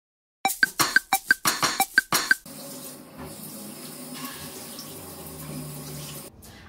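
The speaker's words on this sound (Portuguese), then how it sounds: "Agora que eu já limpei o rosto com água" Around ten quick, rhythmic splashes come first as a face is rinsed with cupped handfuls of tap water at a sink after a homemade peeling treatment, followed by a steady, softer stream of running water and light clatter.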